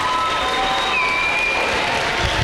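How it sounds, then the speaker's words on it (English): A school ELA night crowd applauds and cheers after a student performance, a dense wash of clapping with a sustained whistle or shout riding over it, loud and continuous throughout. "give her another round of applause"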